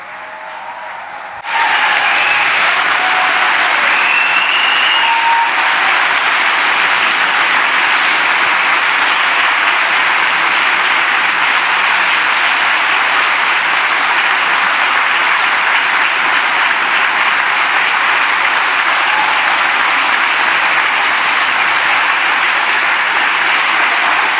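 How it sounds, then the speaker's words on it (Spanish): A conference audience breaks into loud, sustained applause for the speaker Gianni Francesetti, starting abruptly after a brief quiet moment and continuing as a dense, even roar of clapping. "vamos a dedicar a darle un aplauso a Gianni por inspirarnos"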